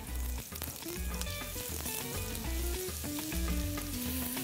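Peppers and garlic fry in oil in a pan on a television cooking show, with a steady, continuous sizzle under louder tonal background music.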